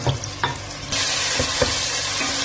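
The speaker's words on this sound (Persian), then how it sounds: "بعدش هم پیازا رو میریزیم که تفتش بده" Chopped onions and turmeric sautéing in oil in a pan for a kashk and pistachio dish: a steady, loud broadband sizzle kicks in partway through, with a few soft stirring knocks before and during it.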